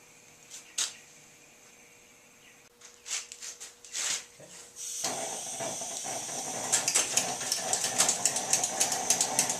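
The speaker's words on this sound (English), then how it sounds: "Kerosene, I pump that down. Kerosine's coming up through that tube." A pressurized kerosene lantern is pumped up close by, a series of short airy strokes and clicks followed by a steady hiss that grows louder and rougher with sputtering pops.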